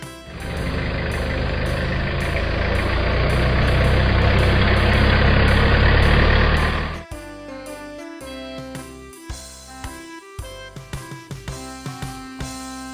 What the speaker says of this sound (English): Police pickup truck